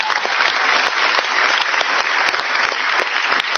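Audience applause at a Marathi public event, a dense, steady burst of many hands clapping together that stays loud and even throughout with no speech over it.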